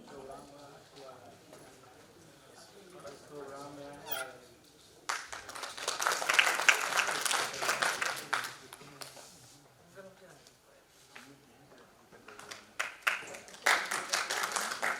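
Applause from a theatre audience for the cast of a Hindi stage play, Jayshankar Prasad's Dhruvswamini, during the curtain-call introductions: a broad wash of clapping that swells, fades and returns, with a voice speaking beforehand.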